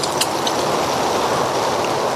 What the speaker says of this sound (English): Just let it rain, keep raining.